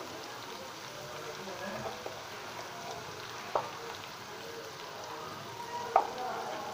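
A spice paste of chili powder and turmeric fries in a pan for a lentil, prawn and bitter gourd dish, a soft steady sizzle close by, broken by a few faint utensil taps.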